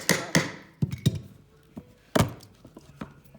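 Hammer blows tapping a laminate flooring plank into place during a budget floor install: a handful of sharp, separate knocks at uneven intervals, loud and close with short decays.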